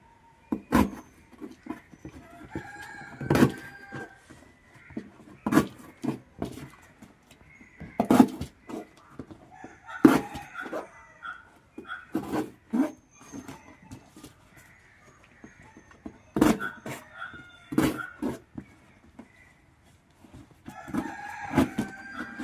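Kurungali hens and chickens cluck and crow in repeated sharp, loud bursts scattered across a quiet coop, with short gaps of faint rustling between calls.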